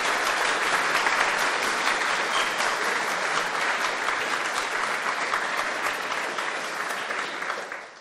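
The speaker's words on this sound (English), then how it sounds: "Let's have a big round of applause for all eight of our speakers tonight." An evening audience gives a big round of applause for a line-up of eight speakers, a dense, even wash of many clapping hands that holds steady and fades out at the very end.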